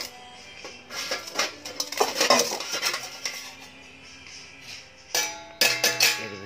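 Stainless steel Kingko pots and a steamer knock and clank as they are handled, bursts of bright metallic clatter and ringing tones with short quiet gaps between them and no speech.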